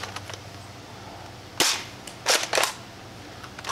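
A Dart Zone Nexus Pro X foam dart blaster fires at a target in a few sharp, snappy shots, one isolated and then a quick pair, over a quiet background.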